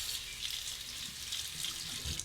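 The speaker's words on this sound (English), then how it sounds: "Cold water on the razor." Cold tap water runs steadily from a faucet as a Fatip Piccolo combo safety razor is rinsed, a soft continuous hiss and splatter with faint gurgles, close and quiet, with no talking.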